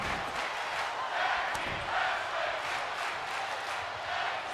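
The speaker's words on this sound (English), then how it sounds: "You guys hear the crowd chanting tag team wrestling because this match hasn't skipped a beat." A virtual arena crowd in a WWE 2K25 tag team wrestling match roars and chants in a sustained, rhythmic swell, a broad distant wall of voices rising and falling in waves with no commentary over it.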